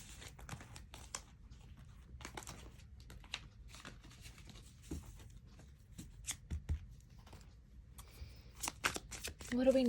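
Oracle cards being shuffled by hand during a love tarot-style reading, a steady run of crisp riffling and soft slapping bursts that grows louder toward the end, with a voice speaking faintly underneath.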